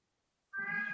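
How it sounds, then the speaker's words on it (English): A house cat meows insistently from behind a closed door, one sustained, fairly loud cry starting halfway through after silence. "my cat's on the other side of the door meowing like crazy"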